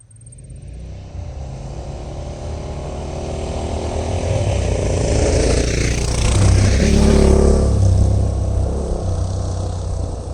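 A Honda XR650L motorcycle cruises with a steady, loud engine drone and rumble, rising gradually with wind noise at close range, and no voices.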